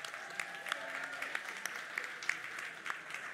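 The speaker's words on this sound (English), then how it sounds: "Round of applause for them." Audience applause at the MICHELIN Guide 2024 Florida selection ceremony, heard as faint, distant clapping across a large room with a few sharper claps standing out.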